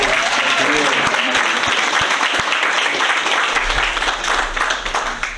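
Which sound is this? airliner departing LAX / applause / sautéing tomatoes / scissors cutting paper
applause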